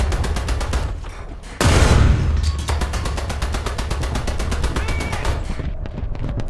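A 2-pounder gun on a Valentine Mk I tank firing in War Thunder: a heavy close blast followed by a long rapid train of evenly spaced shots under a droning engine rumble.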